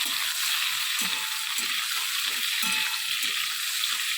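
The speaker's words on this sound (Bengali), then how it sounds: "একটু শুকনো লঙ্কা ফোড়ন দেবো" Dry red chillies fry in hot oil as a tempering, giving a loud, continuous close sizzle and crackle with faint low knocks underneath.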